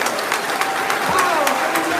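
A crowd of churchgoers claps for invited guests at a Catholic gathering, the applause sounding as a dense wash with sharp individual claps standing out, while a voice speaks over the top.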